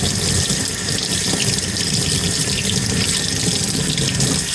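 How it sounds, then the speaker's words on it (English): Hot tap water runs hard from a faucet over a Briggs and Stratton lawn mower carburetor part, a loud, steady, close-up gush with splashing in a sink and no talking. "let's put a little hot water to it and rinse it off"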